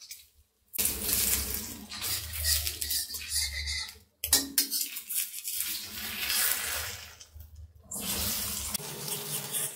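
Eggs are stirred in a pan on a stove over a medium flame for egg fried rice, a continuous loud hiss and scrape with a short break, close and without talk.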